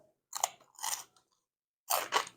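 Close, crisp crunching as something crusty is bitten into, followed by a few chewing crunches, with brief silent pauses between.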